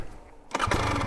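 A KTM 300XC TBI two-stroke dirt bike engine catches after a quiet moment, jumping into a loud, close, raspy buzz that holds steady to the end.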